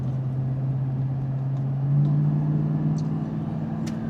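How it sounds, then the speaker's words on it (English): A Lexus GX460 SUV fitted with a Pedal Commander throttle controller accelerates in sport mode, its engine a steady low hum from inside the cabin that swells slightly midway. "Takes very, very minimal effort to just step on the pedal, and the car just goes."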